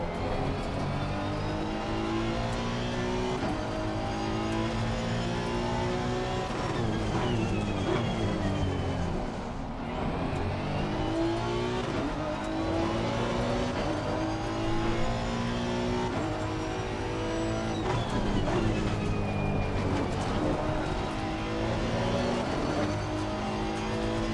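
Ferrari and Porsche GT race cars in Assetto Corsa Competizione at Barcelona drone steadily, engines rising and falling through gear changes, with several cars overlapping in a continuous, moderately loud roar.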